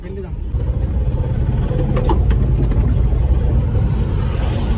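Steady road traffic rolls past at night on a highway near Jorhat, a continuous low engine and tyre rumble that swells slightly as vehicles come and go, with someone talking over it.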